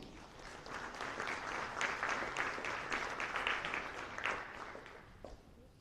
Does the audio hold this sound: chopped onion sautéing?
no